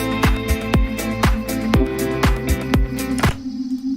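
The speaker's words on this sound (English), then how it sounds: "That pad got really loud. It's because there's two of the same pad playing now." A doubled Serum synth pad in Ableton Live sounds loud and sustained alongside a looping beat with punchy kick hits, a steady electronic groove with no voices.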